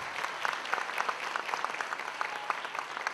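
Audience applause at a success-story event in Singapore, a steady dense patter of many hands clapping for the whole stretch at moderate distance, with no talk over it.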